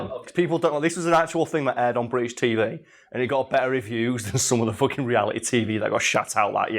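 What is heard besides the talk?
No everyday noise stands out behind the speech.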